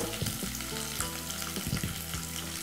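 Dried red chillies, mustard seeds and cumin fry in hot oil for a cucumber curry, giving a dense, steady sizzle with small crackles and pops up close.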